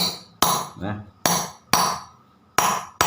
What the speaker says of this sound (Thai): แล้วพวกตอกตาไก่หรือตอกอะไรพวกนี้อย่าใช้ อย่าตอกแรง ค่อยๆตอกไป